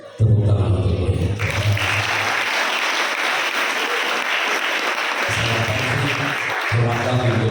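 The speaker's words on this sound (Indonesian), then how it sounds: "Tepuk tangan untuk beliau." Students and guests at a motivational seminar in a school dormitory hall burst into loud, sustained applause that starts abruptly and carries on for several seconds, with a voice over a loudspeaker at the start and end.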